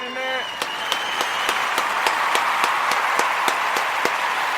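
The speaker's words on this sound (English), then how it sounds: "we want to give all the Umoja born, all the Umoja babies a round of applause" Audience applauds for the Umoja babies at a community gathering: dense clapping with sharp individual claps standing out in a regular beat, while a voice speaks at the start.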